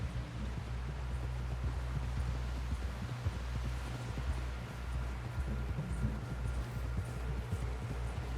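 Horse galloping in the Red Dead Redemption 2 game, a steady clip-clop of hooves running continuously under a dense low rumble and background ambience, with no talk.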